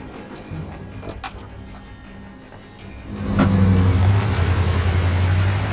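A car starts up, then its engine roars louder as it pulls away, with a sharp clunk just before the acceleration and a steady mid-pitched drone afterward.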